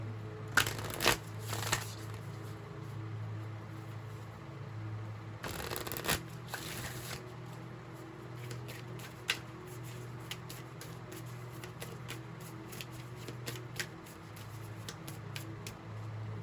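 A deck of moon oracle cards being shuffled close by, with two short bursts of riffling and then lighter, scattered card flicks and taps over a steady low electrical hum.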